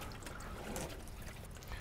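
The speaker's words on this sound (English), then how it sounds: "And we'll just let that drip a little bit more." Engine coolant trickling from a BMW/MINI into a drain pan, a soft, continuous dribble of liquid that is quiet and steady throughout, with no voices.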